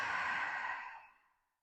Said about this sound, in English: A breath out.